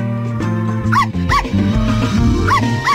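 A cartoon dog in a Bubble Guppies children's video game gives about four short, high yipping barks in two pairs, heard clearly over steady, bouncy background game music.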